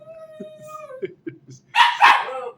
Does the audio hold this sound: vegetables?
no